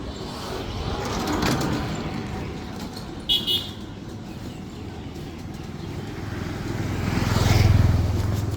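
Auto-rickshaws and motorcycles pass along a village road in the morning, engines swelling as one approaches near the end, with a short horn toot midway over a steady traffic hum.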